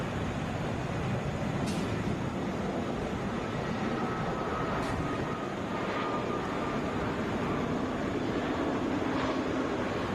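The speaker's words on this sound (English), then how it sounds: "Wheels up on the Boeing 757 there." A Delta Boeing 757, flight 2542 to New Orleans, takes off from Atlanta International Airport, heard as a faint, steady distant jet rumble and rush with a few brief clicks over it.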